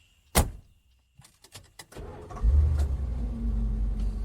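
A car's door thuds shut, then its engine turns over and settles into a steady low idle rumble that continues to the end, close by with no talk.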